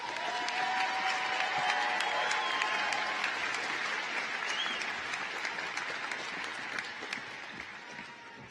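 Steady applause fills a high school graduation ceremony, a broad crowd clapping continuously at moderate distance and slowly tapering toward the end, with faint cheers mixed in.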